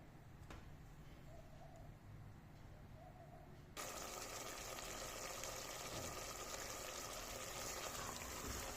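Beef sizzles and bubbles in a pot over high heat, a soft steady frying hiss that jumps noticeably louder midway and continues densely, with faint bird cooing in the background.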